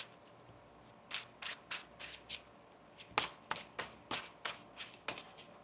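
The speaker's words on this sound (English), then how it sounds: "One more shuffle here." Tarot cards being shuffled by hand in a quiet room: a string of about fourteen crisp riffling bursts in quick, uneven rhythm, close and clear with no talking.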